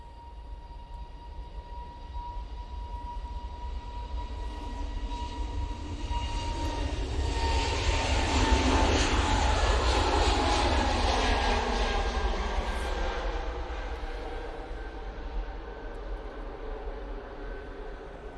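Airliner arriving from Belfast and landing at Manchester Airport, a steady broadband jet roar that swells toward the middle and slowly eases off, heard from nearby with no talking.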